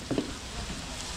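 Garlic and onion frying in butter for a mixed seafood dish make a steady, soft sizzle with a brief louder crackle at the start, heard alone at moderate volume.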